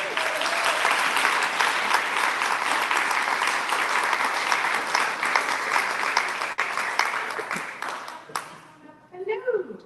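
An Emeryville town hall audience applauds to welcome a congresswoman, steady, loud clapping that fills the room for about eight seconds, then fades out as a voice starts speaking near the end.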